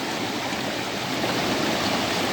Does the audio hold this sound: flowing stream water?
yes